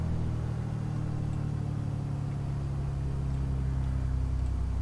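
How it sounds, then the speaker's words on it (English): A light aircraft engine runs up on the ground, a loud, steady, close droning rumble with a deep low hum that holds evenly throughout. "Let's give it some revs. It's quite a quiet engine, this, anyway."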